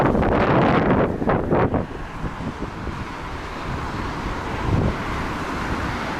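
Strong winter wind in Alanya buffets the microphone in heavy roaring gusts, loudest in the first two seconds, then a steady lower rush of wind noise continues.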